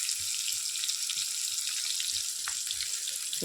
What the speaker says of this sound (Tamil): வெங்காயம் மிளகாய் போட்டுக்கலாங்க போட்டு ஒரு நல்லா வணக்கு வணக்கிக்கலாங்க